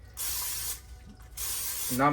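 Olive oil sprays from a kitchen spray bottle in two bursts of bright hiss, each under a second long, close and loud, followed by a brief voice at the end.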